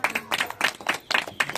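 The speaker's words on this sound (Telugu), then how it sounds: "చప్పట్లు కొడతావా?" An audience claps during a birthday gathering in Husennapuram, Kurnool, with a series of sharp, bright bursts coming in uneven waves. The clapping is close and moderately loud.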